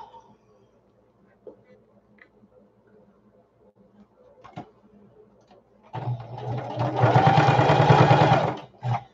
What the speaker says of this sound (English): we're going to top stitch along the top there